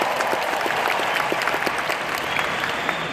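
An audience at the Advocare Success School 2016 event applauds in a thick, continuous patter of many hands. The clapping stays fairly even throughout and fills the room.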